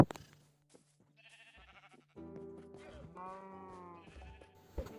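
Several sheep in Minecraft bleat in overlapping wavering calls, alone and without talk, after a near-silent start, growing fuller and louder toward the end.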